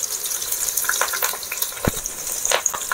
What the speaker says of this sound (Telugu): ముందుగా తరిగి పెట్టుకున్న ఎర్రగడ్డ ముక్కలు అయితే నూనెలో వేస్తున్నా.